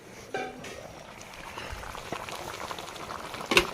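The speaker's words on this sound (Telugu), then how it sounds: "బాగా ఉడుకుతా ఉంది కదండి" Chicken curry bubbling and boiling in a clay pot, a steady soft gurgle with a few louder pops, and no voices.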